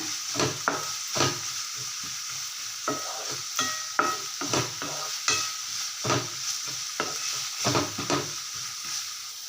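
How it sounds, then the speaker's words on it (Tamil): Ridge gourd peel sautéing in hot oil in a pan, a soft steady sizzle broken by repeated scraping stirs at an irregular rhythm, close and fairly quiet, with no voices. "இந்த பச்சை கலர் தோல் வந்து நல்லா வெந்து க சுருண்டு வர்ற அளவுக்கு எண்ணெயில் நல்லா வதக்கணும்"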